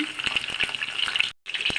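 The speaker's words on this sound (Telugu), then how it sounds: "తాలింపు వేస్తున్నాను" Garlic, cumin, mustard seeds, dried red chillies and curry leaves sizzle steadily in hot oil for a dal tempering, a loud continuous crackle with a brief silent gap near the end.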